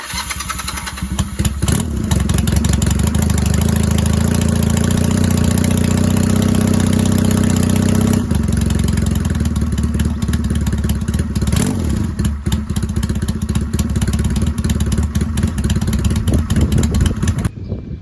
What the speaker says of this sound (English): It's a 1987 Honda Rebel 250. Give you a little start up.